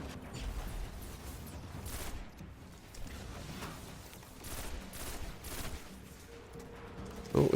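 Grenade blasts and gunfire from Destiny, a Titan soloing Challenge of Elders, come as repeated bursts of explosive and rapid shots layered under game ambience, with a loud hit at the very end.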